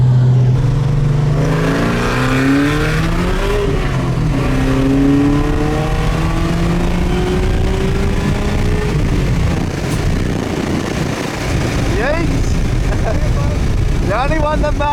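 550HP supercharged Ford FG XR8 accelerating hard in a roll race, its engine revving up through rising gear pulls, loud and close, with people talking over it.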